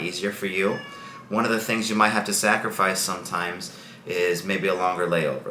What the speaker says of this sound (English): Sorry if you hear my cat in the background. He wants to come in the room.